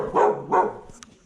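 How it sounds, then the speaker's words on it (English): A dog in a Sicilian town square in Castroreale gives two clear, fairly close barks in quick succession, followed by a softer short yip against quiet surroundings. "A dog barks"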